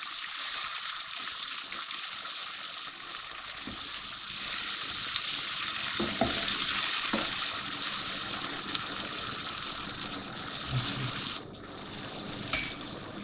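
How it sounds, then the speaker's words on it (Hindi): Garlic-ginger paste frying for mutton biryani, heard as a steady, bright, hissing sizzle that runs evenly throughout with a few faint knocks and clinks near the end, no speech. "अब ये लहसुन अदरक का पेस्ट डाल रही हूँ इसमें मैं। भूनेंगे इसको।"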